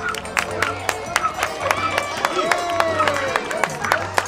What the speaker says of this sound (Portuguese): Salva de palmas para Pandora.